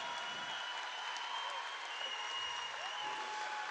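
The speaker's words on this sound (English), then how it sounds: "here comes Sierra Toomey out to a big round of applause" At a high school girls' basketball game between Lake Lehman and Dunmore, a gym crowd gives a player a round of applause, heard faint and distant beneath a steady tonal hum.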